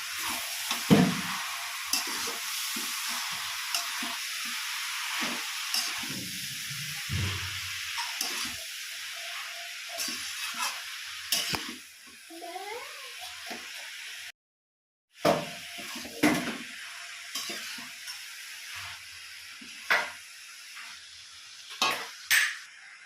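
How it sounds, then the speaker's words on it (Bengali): Shredded cabbage fries in a pan for a Bengali dish with fish head, softly sizzling as a spoon scrapes and taps against the pan at irregular intervals, with a brief gap partway through. "বাঁধাকপিগুলো দিয়ে ভালো করে এবার মিশিয়ে নেব।"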